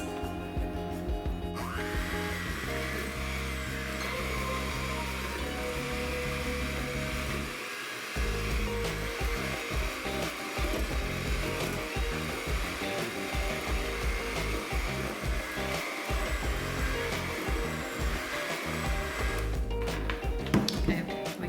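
An electric mixer beats bread pudding batter with vanilla, giving a continuous, loud, close motor whir that starts abruptly, briefly cuts out and resumes, and runs steadily throughout.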